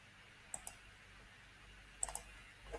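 Sparse keystrokes on a computer keyboard: two pairs of crisp, close clicks separated by a quiet pause, with no speech.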